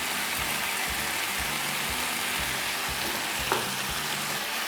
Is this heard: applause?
no